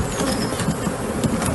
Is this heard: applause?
no